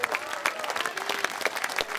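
An audience at an orchestra concert in Jesolo claps steadily and enthusiastically for the musicians, a dense wash of hand claps with no pauses, fairly close and loud.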